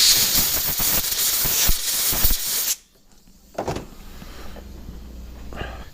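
Compressed air blasts through a rebuilt front brake master cylinder on a DR-Z400SM motorcycle, a loud broadband hiss for about three seconds that cuts off, then a short second puff and faint handling noise.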